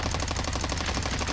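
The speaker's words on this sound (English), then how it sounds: "There's other people shooting at him up here." Rapid, continuous automatic gunfire from Call of Duty Warzone (Cold War), a steady rattle of shots that runs through the whole moment at an even, dense rhythm with no talk.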